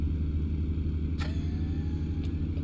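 Steady low truck engine idle after a cold start in American Truck Simulator, a constant deep rumble holding evenly throughout with a couple of brief faint clicks on top.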